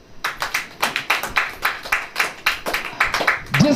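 A church congregation claps in a steady, even rhythm, with loud, distinct claps repeating at roughly a quarter-second interval, mostly without talk.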